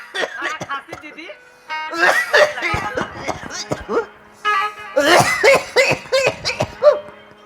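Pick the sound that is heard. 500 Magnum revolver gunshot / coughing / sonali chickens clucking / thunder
coughing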